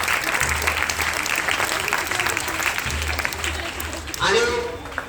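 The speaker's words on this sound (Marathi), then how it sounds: "त्यांच्यासाठी जोरदार टाळ्या." An audience gives an enthusiastic round of applause at a school event, dense clapping throughout, near and loud, with a speaker's voice heard over it near the end.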